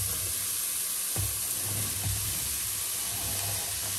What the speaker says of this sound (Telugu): రెండు కలిపి బాగా మెత్తబడేదాకా వేయించుకోవాలి